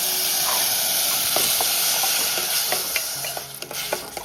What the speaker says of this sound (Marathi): पहिलं तांदूळ भाजून घ्यायचे तुपात